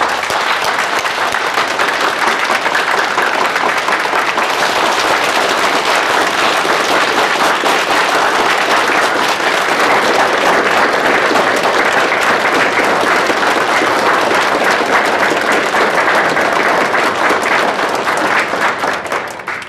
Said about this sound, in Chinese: 下面请大家用热烈的掌声欢迎宋建国先生致辞